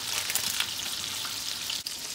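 Venison burgers frying in a hot pan, a dense, bright crackling sizzle that runs steadily throughout, close by and with no voices.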